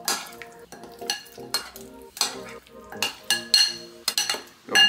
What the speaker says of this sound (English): Add this tofu back in. I'm gonna go a little at a time just to get it all mixed together thoroughly.